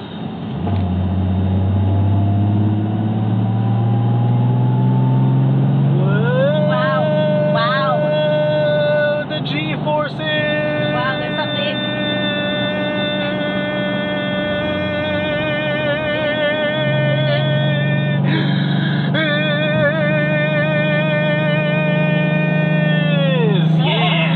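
A car accelerates up a ramp onto a freeway at night, its engine droning loud and steady throughout while the pitch rises and levels off as it gains speed, with a second climb in the later part.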